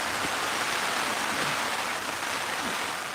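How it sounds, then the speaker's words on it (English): Heavy downpour at Ford Lake in Michigan, a dense, loud, steady hiss of rain hitting water and surfaces with no breaks. "We're in a monsoon"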